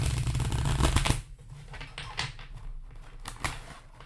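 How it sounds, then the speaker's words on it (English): A deck of tarot cards being shuffled by hand, a dense papery riffling burst in the first second, then softer scattered card taps and slides close by, with no talking. "The deck did not want to be shuffled tonight for some reason."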